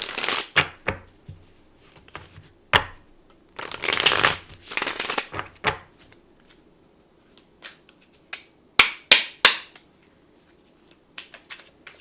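Tarot cards being shuffled close up: bursts of riffling and flicking, with a longer run around the middle and sharp snaps near the end, no talking.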